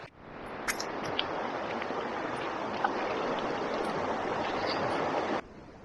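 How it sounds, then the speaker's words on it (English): Steady broadband rush of flowing water, continuous and fairly close, like a small creek running over stones, cutting off abruptly near the end. "There's a little creek here where we can wash up."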